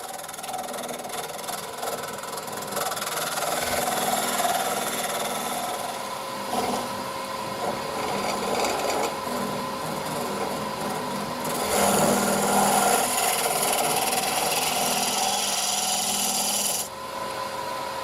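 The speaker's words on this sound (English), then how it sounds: "that's the shop made hollowing tool there," A shop-made hollowing tool with a 12mm radius carbide cutter scrapes and hisses steadily against spinning wood on a lathe while a goblet is turned. The continuous close rasp swells louder in the later part and carries no voices.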